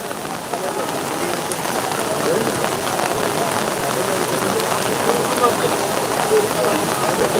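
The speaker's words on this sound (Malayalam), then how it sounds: "ഇപ്പോൾ നല്ല മഴയായി" Heavy rain pours down during the Kottiyoor temple festival, a steady, loud hiss, a constant wash of drumming drops that barely changes from start to finish.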